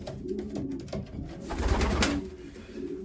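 Racing pigeons coo in a breeding loft, a soft rolling coo swelling in the middle against a background of shuffling and faint hiss.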